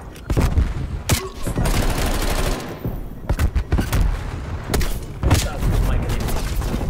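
Repeated bursts of gunfire and heavy booms in an online video game shooter match, loud and close, with a voice talking over parts of the shooting.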